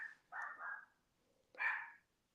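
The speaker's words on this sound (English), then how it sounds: "If you can hear barking, my dog." A dog barks indoors, two separate bark bursts separated by a short pause, moderately close but fairly quiet, with no voices over them.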